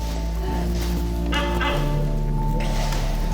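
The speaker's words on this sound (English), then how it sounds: "my friend François, the rooster, national bird of France" A rooster calls loudly and close, a strained crowing cry lasting a couple of seconds over steady low background noise, with no talking.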